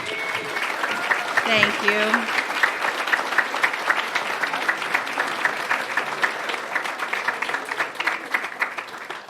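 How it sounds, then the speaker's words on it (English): A crowd applauds the girls' team at a council meeting, with dense, steady clapping filling the whole stretch and a short spoken thank-you near the start. "Can you all stand up so we can give you all a big round of applause?"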